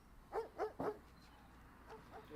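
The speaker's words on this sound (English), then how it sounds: "So I wish those dogs would shut up, eh?" Dogs in a detective video game let out three quick close barks, then a pause and two fainter yips, over a low steady background hum.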